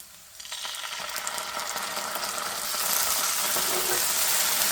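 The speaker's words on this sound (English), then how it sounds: "Now we have added in 2 tablespoons of ginger garlic paste." Ginger garlic paste sizzles and fries in hot oil with golden-brown onions for Sri Lankan kottu roti, a steady close crackle that grows louder after a quiet start, with no talking.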